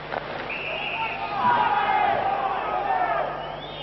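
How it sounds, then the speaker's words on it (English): A hockey arena crowd at a 1989 Sweden versus Canada international game gives a brief, swelling roar of reaction, a broad murmur rising and holding under the play at moderate distance. "A little bit of crowd reaction there."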